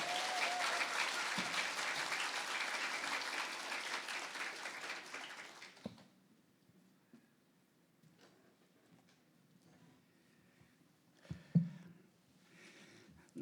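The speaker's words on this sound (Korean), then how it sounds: "큰 박수를 한번 이래야 되겠습니다." A church congregation in Suncheon, Korea, claps loudly and densely for about six seconds, then the applause cuts off abruptly, leaving a quiet room with a few scattered bumps and soft sounds.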